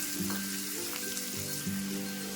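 Chopped onion and green chili fry in a pan for a cauliflower dish, giving a steady, close sizzle that runs unbroken throughout, with a few soft stirring scrapes and no talking.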